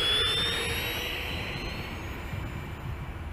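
Freewing L-39 Albatros model jet with an 80mm electric ducted fan taking off from grass, a steady high-pitched fan whine with slowly falling tones, loud at first and fading slightly as it moves away.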